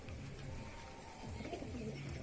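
Pigeons coo in low, repeated rounded calls while feeding beside a wall, the cooing steady and close over a continuous background hum.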